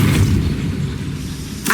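Depulso spell cast in Hogwarts Legacy inside a goblin mine, a loud deep booming blast that rolls out over under two seconds, then a brief sharp burst at the end.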